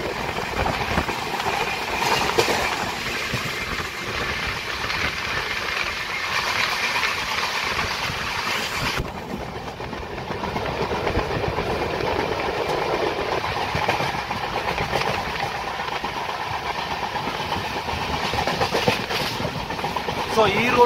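Kagaznagar superfast express train running past Maula Ali station, a steady loud rumble of rolling wheels and carriage noise throughout with faint clatter.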